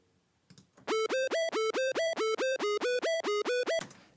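A buzzy synth tone from Logic Pro's test oscillator pulses in a fast, even series of about a dozen repeated notes, each swooping up in pitch, loud and close.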